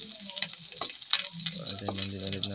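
Sliced onions fry in a pan for ginisang patola with chicken, a continuous crackling sizzle with scattered pops and small clinks of a utensil, while a faint hum runs underneath.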